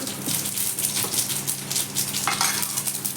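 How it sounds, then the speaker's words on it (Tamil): Mustard seeds, urad dal and chana dal tempering in hot oil in a kadai for beetroot poriyal give a steady close-up sizzle and crackle with some stirring scrapes. No one speaks. "கடாயில் எண்ணெய் ஊற்றி காய்ஞ்சதுக்கப்புறம் கொஞ்சம் கடுகு, உளுந்து, கொஞ்சம் கடலைப்பருப்பு, உளுந்து போட்டு போட்டு தாளிச்சு"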